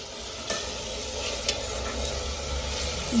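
Onion and potatoes fry steadily in a pan at home, giving a continuous close sizzle with a few sharp clicks and scrapes from stirring, and no voices over it.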